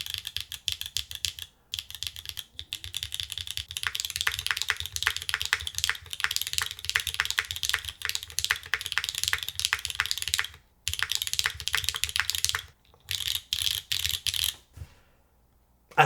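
Rapid, crisp clacking of a retro-inspired mechanical keyboard under steady typing, bursts of close keystrokes broken by brief pauses before trailing off to quiet.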